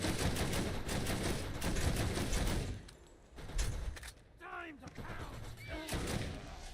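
Enemy turrets firing in the video game Borderlands, dense rapid bursts of gunfire that pause briefly and resume, with a voice talking over parts of the shooting.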